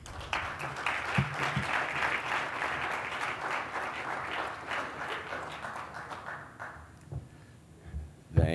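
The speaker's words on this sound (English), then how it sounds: "we'd like to give you a round of applause before you start" Audience at an ADAO remembrance brunch breaking into a round of applause, sustained dense clapping that tapers off near the end, with a few brief voices and a thump as it dies down.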